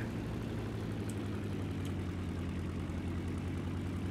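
A PB4Y-2 Privateer four-engine propeller plane in the War Thunder video game drones steadily, a loud, continuous low engine hum with no break, alone and without talk.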